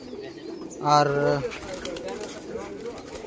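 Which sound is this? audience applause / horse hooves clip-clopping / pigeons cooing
pigeons cooing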